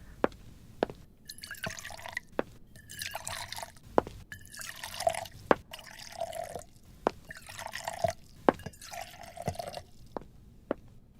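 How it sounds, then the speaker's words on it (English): Liquid, a serum-like concoction of oils, is poured into cups in a series of pours with sharp clinks of glass between them, alone and with no talking. "Mr. Lefebvre, would you oblige me by pouring some of this liquid into the cups?"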